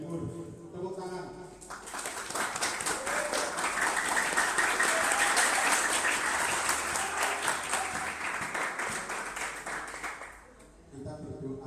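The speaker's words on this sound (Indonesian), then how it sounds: "Tepuk tangan" Applause from the audience at a civic education gathering in Kediri, rising after a moment of speech into a sustained, dense clatter of clapping that holds for several seconds before dying away, with talk resuming at the end.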